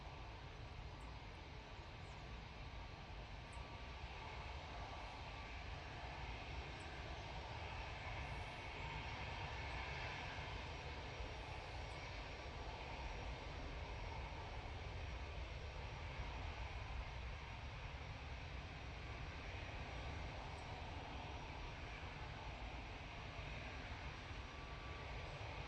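A TUI airliner arriving at Manchester Airport makes a steady, distant rumbling jet drone that swells slightly midway and stays continuous, with no talk over it.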